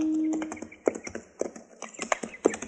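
Clopping hooves of mules ridden by an old man and a woman in a radio drama western, a quick irregular run of sharp knocks after a brief tone, close and alone.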